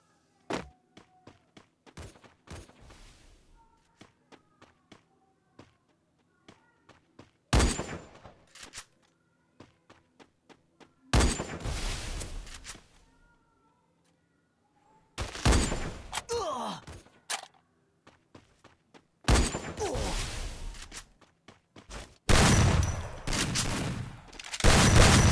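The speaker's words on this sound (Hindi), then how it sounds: "यार मैं कितना गोली मारूं यार उसे, कितना इतनी कम हेल्थ में वो बचा था यार।" Gunfire rattles in a mobile shooting video game, with several loud bursts of rapid shots separated by quiet gaps and scattered faint clicks.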